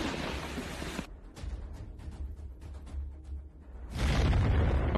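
A Leopard tank's cannon shot strikes a Russian tank in the Russian-Ukrainian war, a loud blast that opens and then returns as a heavy booming roar, with a quieter rumbling lull between.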